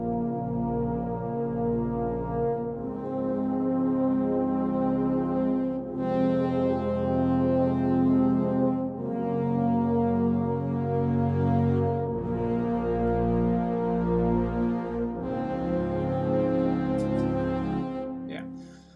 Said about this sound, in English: This first sound is Spitfire Audio Albion 3 Iceni.